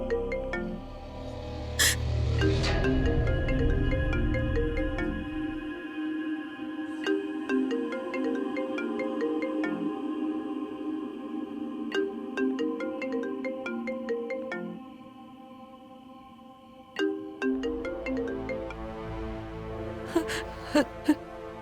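A phone rings on and on with no answer, a melodic ringtone repeating steadily for a long stretch, with brief breathy vocal sounds and a few sharp clicks near the end.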